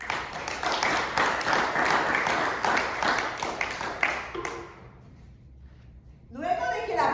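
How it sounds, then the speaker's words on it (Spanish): A church congregation applauds during a Spanish-language sermon, rhythmic clapping for about four seconds that stops abruptly, then near silence before a voice resumes. "Vamos a darle un aplauso al Señor."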